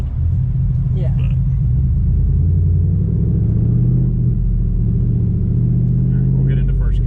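A Ford car's engine pulls in first gear with a loud, close, rising rumble that climbs steadily in pitch, while people talk briefly over it near the start and end.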